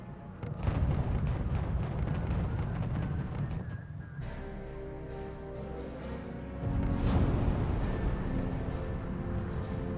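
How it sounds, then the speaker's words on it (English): M40 armored artillery in the strategy game RUSE keeps firing at buildings, heavy booming blasts and crumbling rumbles rolling continuously from a distance, punctuated by sharper pops and a surge of louder explosions later on. "M40 armored artillery, they'll shoot pretty far"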